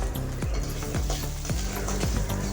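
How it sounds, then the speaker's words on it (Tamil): Onions and finely chopped coconut sautéing in a hot pan, a steady close sizzle with a spoon scraping and stirring through it every half second or so, no voices. "வதக்கினதுக்கப்புறம் ஒரு துண்டு அளவுக்கு தேங்காய் பொடியாக நறுக்கியிருக்கோம், அதுவும் சேர்த்து வதக்கிக்கலாம்."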